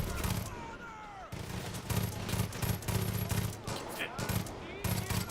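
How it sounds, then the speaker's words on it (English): Gunfire in Far Cry 5 comes as rapid bursts of automatic fire and single shots through the game's combat noise, repeating in clusters. "Oh, it's you shooting."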